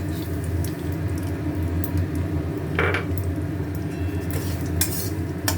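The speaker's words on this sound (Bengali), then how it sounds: "এবারে সুজি দিচ্ছি" Semolina being tipped into a pan of cooking food, giving a soft granular rustle and clink of utensil over a steady low kitchen hum and faint sizzle, with a brief sharper scrape midway and more light clatter toward the end.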